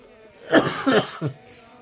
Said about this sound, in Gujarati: મને થોડીક શરદી ઉધરસ છે એટલે ક્યારેક ક્યારેક ઉધરસ આવે છે